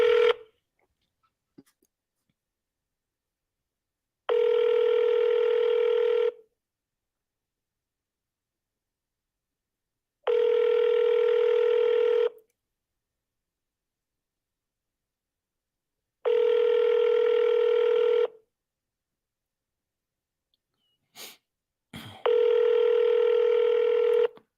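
A telephone dialing out while calling sellers produces four steady, loud ringback tones of about two seconds each, evenly spaced with silent gaps, plus a brief click near the end.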